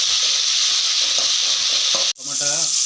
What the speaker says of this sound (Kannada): ಟೊಮೊಟೊ ಹಾಕ್ಕೊಂಡು ಚೆನ್ನಾಗಿ ಬಾಳಿಸ್ಕೋಬೇಕು